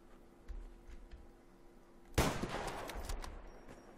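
Heavy machine gun fire in the video game Survarium: faint, scattered shots at first, then a sharp loud burst followed by a rattling run of gunfire that gradually fades.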